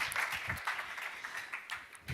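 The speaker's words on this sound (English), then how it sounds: "Give her an applause." An audience at an entrepreneurship challenge event applauds, a fairly faint and distant patter of many hands clapping that thins out toward the end.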